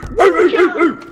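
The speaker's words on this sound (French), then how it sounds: "Oh les chiens, ouais." Dogs bark in the R.E.P.O. video game, a quick run of loud, close yelps and bow-wows over about a second, mixed with voices.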